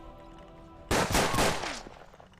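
Gunshots in the Western tactical video game Hard West: a sudden loud cluster of three close, sharp shots in quick succession with a ringing tail, after a quiet ambient stretch.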